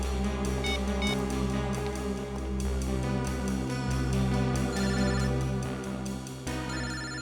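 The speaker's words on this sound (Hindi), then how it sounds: "फोन तो यही कहीं बज रहा है" A mobile phone rings nearby in a tense crime-drama scene, its melodic ringtone repeating steadily and prominently over a low background hum without speech.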